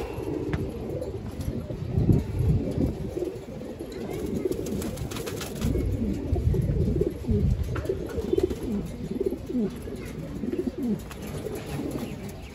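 Pigeons coo continuously in a breeding loft where pairs are being set up, several birds giving overlapping low throaty calls at moderate loudness throughout, with no talking.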